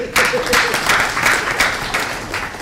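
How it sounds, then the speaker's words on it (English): An audience at a professional workshop in Vijayawada claps together, a dense, steady burst of applause filling the room close by, with no speech over it. "I'd like you all to clap for yourself"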